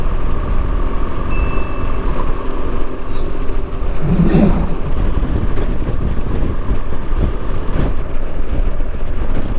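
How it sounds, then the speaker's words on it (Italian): Strong wind buffets the microphone throughout, a loud continuous roar with low rumbling gusts, faint water and engine noise underneath. "Tira particolarmente vento"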